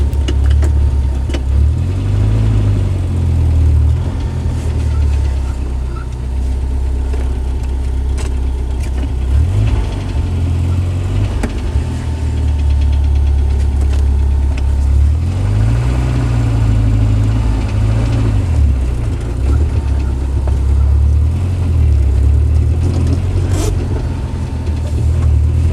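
A 1990 Jeep Wrangler engine idles loudly and close after a cold start, with a deep, steady rumble that swells and dips now and then, and no talking.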